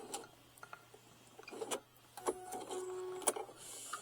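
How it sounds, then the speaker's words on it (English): A sewing machine stitches a duffel bag seam in short bursts: intermittent mechanical whirring and ticking close by, starting and stopping, then a longer steady run near the end. "take it to the sewing machine. And I'm going to stitch this about 1/2 inch from this edge"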